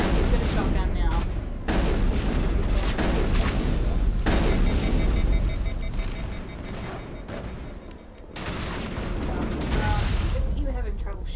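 Shotgun fire in the Mass Effect video game: loud, dense bursts of gunshots and booms through the whole stretch, with brief drop-outs, layered with talk from players.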